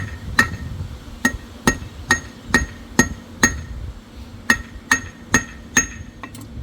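A hammer strikes hot steel on the horn of an anvil while a leaf tip is forged, giving a steady run of about a dozen sharp, ringing blows at an even pace, close and loud.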